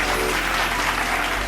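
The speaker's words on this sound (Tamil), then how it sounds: "கைத்தட்டு." Steady, dense applause from a church congregation at a Bible study talk, sustained and even throughout without pause.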